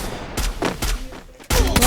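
Gunfire in a battle royale video game: several loud, sharp shots in a quick, irregular burst, then a heavier run of fire near the end, with no talk over it.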